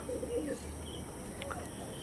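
Fancy bred pigeons give a short low coo near the start, followed by a few faint chirps over steady background noise.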